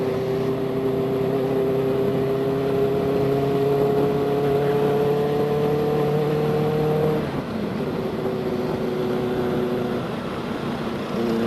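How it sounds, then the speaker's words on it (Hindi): A motorcycle engine, BMW G310GS or Benelli 600i, drones steadily while riding, a close, even hum with rising pitch that drops abruptly partway through as the rider shifts or eases off, then settles again. "इस बाइक की आवाज कैसी है"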